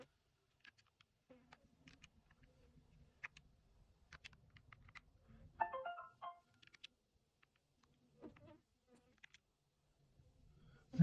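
Calculator buttons pressed one after another, faint small clicks and taps in irregular bursts, close but quiet, with a brief soft electronic tone midway and no talking.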